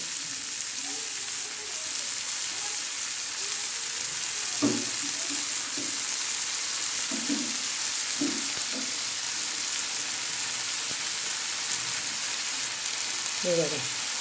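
Constant loud sizzling of onions and green chillies frying on a hot griddle, with occasional soft scraping and faint voices in the background.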